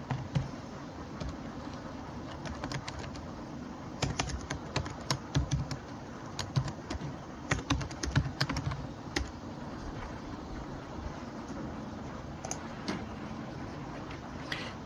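Steady typing on a computer keyboard as a new job name is entered in piping analysis software, a long run of close, light key clicks with occasional louder taps, no voices.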